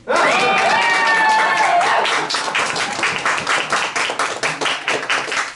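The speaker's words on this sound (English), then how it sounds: "You can keep clapping." Audience at A Queer Christmas Carol theatre show claps and cheers, a brief vocal whoop at first giving way to steady, rhythmic group clapping that continues alone.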